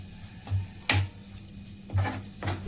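Spoon stirring a fried cashew and onion masala paste in a pan for a paneer gravy: a few scraping, sloshing strokes at an uneven pace, with a soft sizzle underneath.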